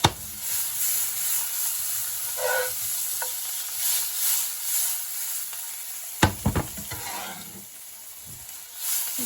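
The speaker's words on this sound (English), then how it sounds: "they're just sizzling into the herbs and spices here" Mushrooms sizzle in garlic butter with herbs and spices, a steady close hiss in the pan, broken about two-thirds through by a few sharp clatters of stirring.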